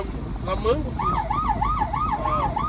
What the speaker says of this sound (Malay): Oh, boleh bunyi siren ke?